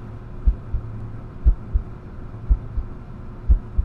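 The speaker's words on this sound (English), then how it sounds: "I don't hear anything besides my heartbeat." Slow, thudding heartbeat in a horror video game, paired low thumps repeating about once a second over a faint dark hum, close and prominent with no talk.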